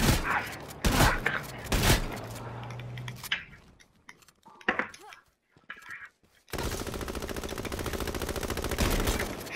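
Light machine gun fire rattles through an online shooter match in sustained, dense bursts, with a near, loud steady stream of rapid shots filling the closing seconds after scattered earlier gunfire.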